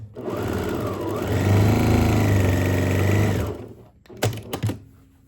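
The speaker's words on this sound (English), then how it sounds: "I'm going to sew the outside, the bottom one," Sewing machine stitching across the bottom edge of fabric for a Japanese-inspired box: a loud, close, steady motor whir with rapid needle chatter for about three and a half seconds, then stops, followed by a few sharp clunks.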